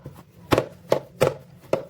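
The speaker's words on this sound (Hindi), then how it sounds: "ये हम इसमें डाल देंगे और बड़ी अच्छी सी डो गूंदेंगे जो कि नहीं होगी लूज़" Pizza dough for a chicken bread pizza being kneaded by hand on a surface, four or five dull thumping presses at an uneven pace, close and moderately loud.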